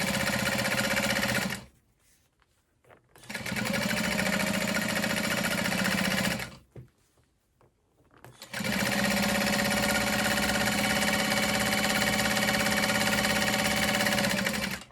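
A sewing machine stitches a crossbody bag in loud, steady runs, stopping twice briefly before resuming for a long continuous stretch.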